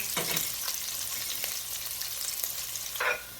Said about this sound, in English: onions, garlic, and pimentos. Allow it to fry for a bit.